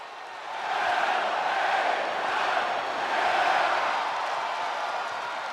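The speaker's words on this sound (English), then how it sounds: "Well, the roar of the crowd tells you all you need to know." A dense, steady crowd roar from an arena audience in the wrestling video game WWE 2K25, swelling loud after a brief quieter start and holding a broad, sustained wash of cheering throughout.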